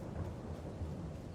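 Low rumbling thunder with steady rain inside a John Deere farming video game, a continuous dull roll filling the short stretch with no voices.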